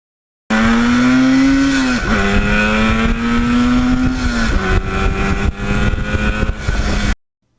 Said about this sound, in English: Now, back on this back road that I love to ride the RD on